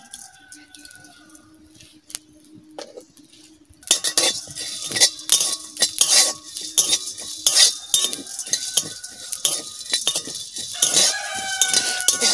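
Whole garam masala, cumin and black pepper are dry-roasted in a wok, with a busy run of scraping and clinking stirring strokes that starts after a quiet opening and keeps going to the end.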